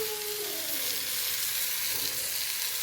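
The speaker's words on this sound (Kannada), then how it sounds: "ಜಸ್ಟ್ ಹಾಗಲಕಾಯಿನ ತೊಳೆದ್ಬಿಟ್ಟು ಫ್ರೈ ಮಾಡಿದ್ದೀನಿ" Bitter gourd with onion, tomato and green chilli fries in a pan, an even, continuous hiss of sizzling oil, steady and close throughout with a faint tonal whine early on and no talk.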